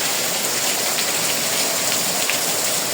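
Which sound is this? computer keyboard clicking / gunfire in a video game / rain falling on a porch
rain falling on a porch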